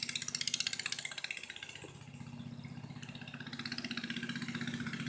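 A three-wheel bike engine idles at low speed with a steady, throbbing chug, fairly loud and close, running on its own without any voices.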